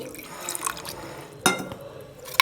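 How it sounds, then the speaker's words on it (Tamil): Water trickles and splashes briefly into a container while making coconut coriander chutney, a short close pour with a sharper splash near the middle and some faint background clatter. "கொஞ்சம் தண்ணி ஊற்றி"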